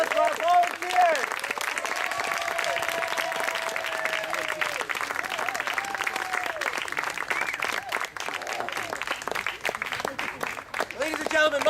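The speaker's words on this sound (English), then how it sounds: "Round of applause for our volunteers." A theatre audience gives sustained, dense applause for the volunteers at the end of a Midsummer Night's Dream performance. The clapping is loud and continuous, with voices and cheering mixed in throughout.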